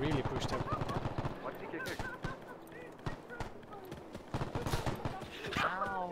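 Enemy gunfire in a WW2 video game battle at Tarawa, with rapid shots and bursts mixed into a dense battle soundscape while a person talks over it.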